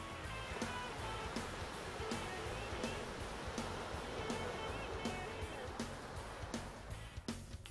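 Small ocean waves and surf wash around a kayak in the South Bay off Los Angeles County, a continuous close splashing roar with rhythmic paddle splashes and soft water slaps.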